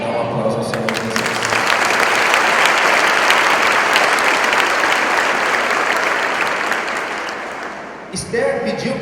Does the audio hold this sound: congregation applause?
yes